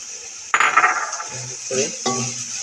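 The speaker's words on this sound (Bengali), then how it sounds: "গাজরটা দিয়ে একটু ভেজে নিব।" Chopped carrots hit a hot oiled pan with a sudden sizzle, then fry steadily while a utensil scrapes and clinks against the pan in short bursts, close and moderately loud.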